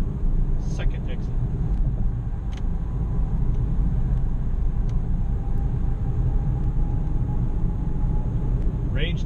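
Inside a BMW i3 electric car merging onto a freeway, a steady low road and wind rumble fills the cabin with a few faint clicks and ticks over it.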